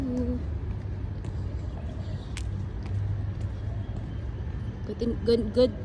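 Pigeons coo outdoors on a hot, sunny early morning, low soft repeated calls beneath a constant rumble of nearby traffic, with a few sharper sounds near the end.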